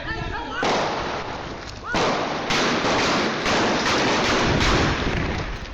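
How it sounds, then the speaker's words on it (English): Several sharp gunshot-like bangs ring out at irregular intervals, loud and close, over a constant noisy background without clear talk. "gunfire can be heard in the background"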